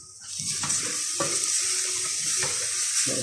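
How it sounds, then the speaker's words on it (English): Seasonings being stirred into a simmering pot of meatball soup, a steady bubbling, sizzling wash with a few soft spoon knocks against the pot. "Let it stir in there."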